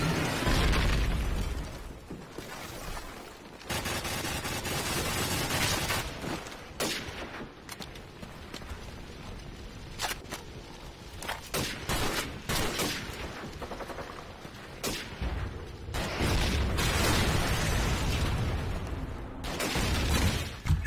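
RPG-7 rockets and other weapons explode in the Modern Warfare video game, loud booming blasts and bursts of gunfire repeating irregularly across a busy battlefield.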